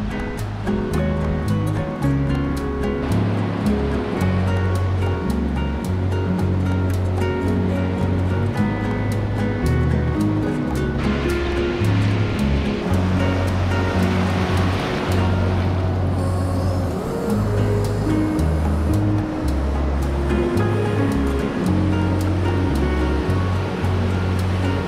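Rough ocean surf at Coolum Beach on the Sunshine Coast, Queensland, a steady loud wash of breaking waves with constant roar and no talk.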